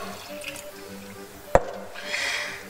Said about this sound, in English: I'm going to add a cup of water